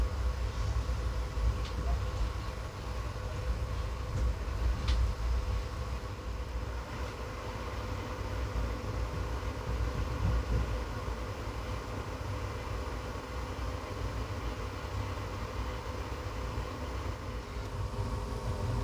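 Inside a 3A coach of the 07378 Mangaluru–Vijayapura Express as it crosses turnouts: a steady, loud rumble of running gear with a broad roar and a few faint clicks, continuous and close, with no voices.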